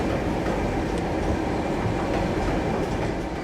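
A train of the Baltic weekend party service rumbles into the station with a steady, broad mechanical roar and faint rail clatter, moderately loud and unbroken, with no voices.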